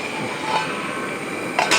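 A mixer grinder grinding spice paste for a Kerala-style curry makes a steady whirring drone with a constant tonal whine, with a couple of short louder surges near the end, moderately loud and alone.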